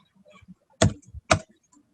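Keys on a computer keyboard are struck in two sharp, distinct clicks about half a second apart, close and clear, with a few faint taps in between.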